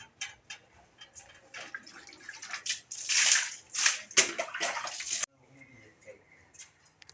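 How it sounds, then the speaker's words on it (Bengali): Water sloshing and splashing as soil is soaked and scrubbed off farm equipment, with irregular wet scrubbing bursts that swell louder midway, then ease into quieter trickling. "জল দিয়ে ভিজিয়ে দিতে হবে, ঘষে ঘষে মাটিগুলো পরিষ্কার করতে হবে।"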